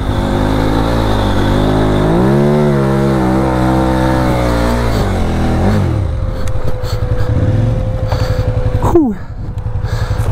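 A KTM 990 Adventure motorcycle in Dubai, UAE, revs loudly up and down several times close by, then drops to a steady idle with one quick rev near the end.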